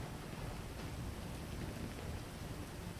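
Steady rain in GTA V, a dense, even hiss of falling water without a break, loud and continuous with no voices.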